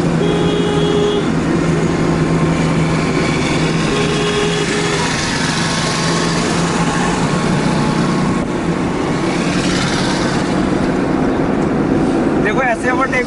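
A car speeding up to overtake another car on the road, heard from inside as a loud, constant engine and road drone that rises slightly, with a voice talking over it at times.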